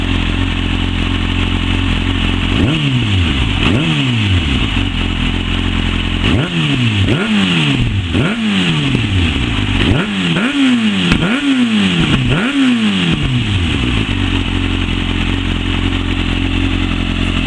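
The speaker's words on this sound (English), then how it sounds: "I'll just give her a blip for you so you can hear that exhaust" A motorcycle idling loudly, then its exhaust revved in a series of sharp blips, each rising and falling back, close by and alone.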